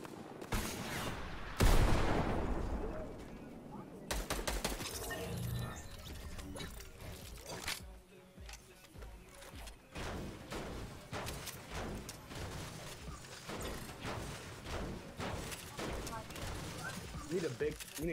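Gunfire rings out in the video game Fortnite in irregular bursts and single shots, some loud and near and others fainter, with players talking throughout.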